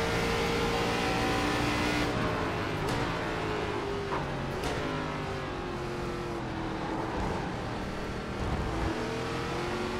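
Race car engines from the iRacing ARCA Menards Series at the Charlotte Roval, several cars running close together, droning and shifting pitch in steady, loud overlapping tones with occasional gear changes and no talk.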